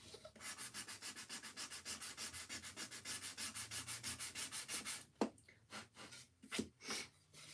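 A small sander is worked in quick, even back-and-forth strokes, about two dozen in a row, then a few slower, irregular passes; the scratching is close but fairly soft.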